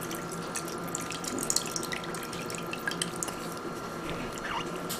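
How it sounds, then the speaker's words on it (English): Tamarind water is poured and drained into a cooking pan for sambar, a steady trickling stream with small splashes and drips running continuously, close and moderately quiet. "So I'm going to drain out the water into the pan in which I'm going to make the sambar."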